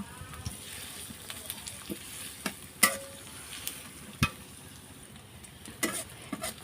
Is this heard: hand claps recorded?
no